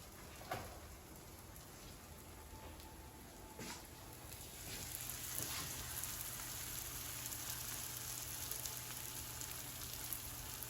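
Swedish pancake batter cooks quietly in a pan, a faint soft crackle and gentle sizzle that thickens slightly midway, with a few light clicks and no talking.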